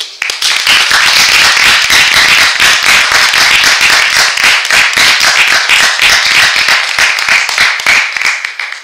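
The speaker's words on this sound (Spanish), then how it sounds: "Yo le daría un gran aplauso." An audience at a cultural-center lecture claps together in sustained, loud applause, with dense overlapping hand claps filling the whole stretch evenly.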